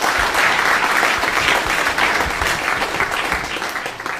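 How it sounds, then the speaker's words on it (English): Steady, dense applause from a large crowd at a public address, loud and continuous throughout with no pauses. "Please, give Akufo-Addo a big clap"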